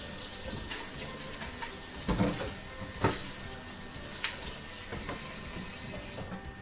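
Tap water runs steadily into a pot at a kitchen sink while pork chops are being cleaned, a continuous hiss with a few sharper splashes and clinks.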